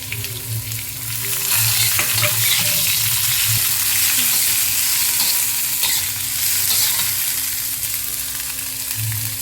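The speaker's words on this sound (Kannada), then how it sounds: "ಇವಾಗ ಈರುಳ್ಳಿ ಹಾಕೊತಿದ್ದೀನಿ ಉದ್ದ ಉದ್ದ ಹೆಚ್ಚಿಟ್ಕೊಂಡಿರೋ ಅಂಥದ್ದು ಎರಡು ಮೀಡಿಯಂ ಸೈಜಲ್ಲಿರೋ ಈರುಳ್ಳಿ" Long-sliced onions, two medium ones, sizzle steadily in hot oil in a pan while being stirred for a chicken gravy biryani, a continuous close hiss with a low bubbling undertone and no voices.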